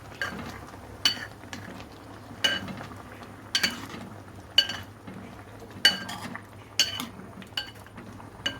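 Mango pulissery curry being stirred in a pot, a spoon clinking against the sides in a steady run of sharp taps about once a second, close and fairly loud with no talking.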